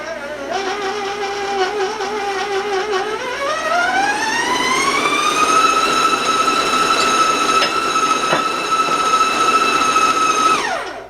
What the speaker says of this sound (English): I'm going to raise my speed, so warn you about the sound